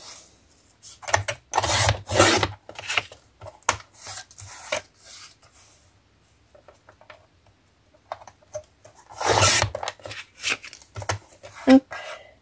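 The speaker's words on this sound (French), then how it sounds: "Je vais prendre le petit massicot. Et je vais couper tout ça." A small paper trimmer slices through craft paper for a springtime card, giving close, scraping rasps in short bursts. A voice talks in between the cuts.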